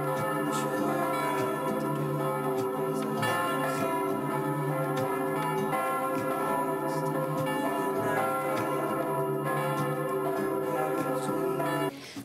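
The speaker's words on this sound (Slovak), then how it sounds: "V severnej veži sa nachádza jeden z najväčších zvonov v Európe," The great St. Nicholas bell in the north tower of a basilica rings continuously, its deep, rich tone with dense overtones swelling and sustaining loud for the whole stretch before fading at the very end.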